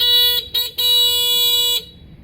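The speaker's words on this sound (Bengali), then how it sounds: "এটা হর্ন হর্ন কোয়ালিটি কিন্তু অনেক সুন্দর চমৎকার" A bright, nasal horn on a 2025 Shadow Tiger motorcycle sounds close by in three blasts: two short beeps, then one longer held honk, before it falls silent.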